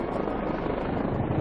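A police helicopter of the National Police Air Service in South Yorkshire drones steadily and loudly, its continuous rotor and engine roar filling the whole span without any break.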